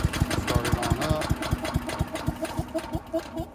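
Small engine on a GreatCircleUSA wood chipper shredder mulcher running, a steady, fast chugging putter at close range with a rapid even beat and no talking over it.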